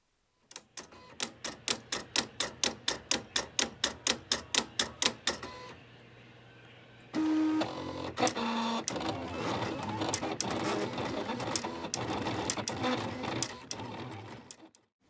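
A Silhouette Cameo cutting machine cutting paper shapes, with a fast, even run of sharp mechanical ticks, a short quiet pause, then a steady whirring, clattering stretch of motor and carriage movement.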